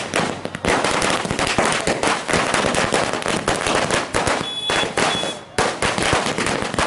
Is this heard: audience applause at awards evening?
no